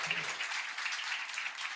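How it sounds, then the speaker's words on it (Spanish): An audience at a panel discussion applauds steadily for a couple of seconds, a moderate, even wash of clapping. "Les vamos a dar un primer aplauso."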